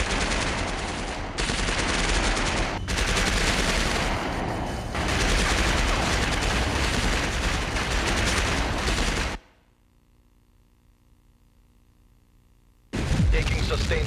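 Heavy, continuous automatic gunfire and bursts in a video game fill most of the stretch loud and dense, cut by a brief near-silent gap before the shooting resumes.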